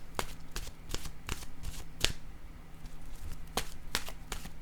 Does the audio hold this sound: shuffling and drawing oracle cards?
yes